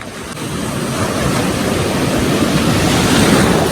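Ocean waves roll and break at a surf beach in Omawas, Maydolong, Eastern Samar, a loud, continuous roar that swells slightly, with wind buffeting the microphone and no talking.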